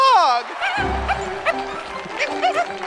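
A backflipping dog lets out high, sharp yips and short barks close by, repeated in quick bursts over other background sound.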